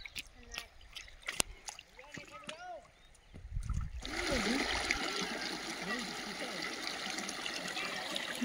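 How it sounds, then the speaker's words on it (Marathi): Clear water of the Kanar river flows steadily during a crossing on a Narmada parikrama walk. A continuous broad rush of water starts partway through and fills the rest, with brief chirps and voices over it. "ही नदी आम्ही पार करून चाललोय। खूप नितळ पाणी यायचं।"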